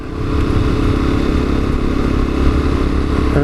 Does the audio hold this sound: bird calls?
no